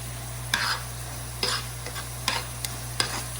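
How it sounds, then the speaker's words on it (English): Food sizzles in a frying pan while the last of the liquid burns off, a steady hiss punctuated by four or five sharper stirring scrapes at irregular intervals, close and without voices. "you can hear it sizzling. That means the liquid is almost burnt off of it"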